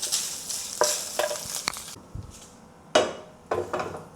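Minced pork scooped out of a small oiled wok, with repeated spatula scrapes and metallic knocks against the pan, close and fairly loud over a light sizzle.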